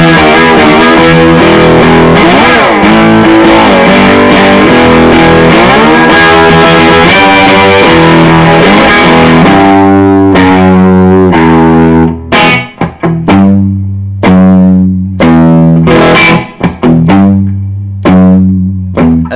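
Distorted electric guitar playing a slow riff, with sliding notes ringing together at first, then separate sustained notes with short gaps between them, loud and alone.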